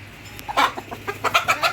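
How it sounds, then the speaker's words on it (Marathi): A hen clucking after laying an egg, a series of close, loud, rapid clucks building in an irregular rhythm over a faint low hum. "कोंबडीने अंड दिलं बघ"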